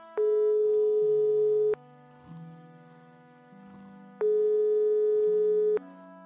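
Unanswered phone line tone in the video game Broken Sword 5: steady electronic ringback tones repeat twice, with lower sustained music tones playing beneath and between them.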